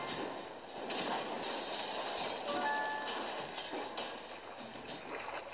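Train rolling past in the video game Monster Evolution, a steady rumbling rush with brief wheel squeals, fairly quiet and continuous, with no talk over it.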